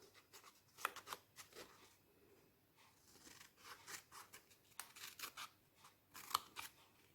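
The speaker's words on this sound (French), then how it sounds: "Alors, on va aussi mettre un coup de ciseau ici." Scissors snip through paper in a craft activity, a run of short, crisp cuts at an uneven pace, close and quiet, with brief pauses between bursts of snipping.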